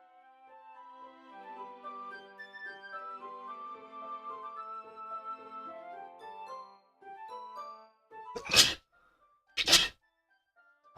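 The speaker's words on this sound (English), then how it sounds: "The sneeze is incoming" Two sharp, loud sneezes burst out a second apart after a stretch of soft tonal music from Doki Doki Literature Club, followed by quiet.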